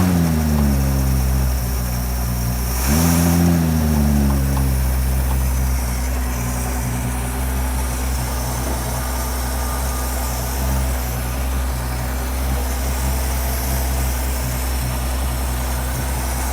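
A Ford 200 inline six engine holds a steady rumble, gives one short throttle blip around three seconds in, then settles back into a smooth, even idle that runs on alone and close by.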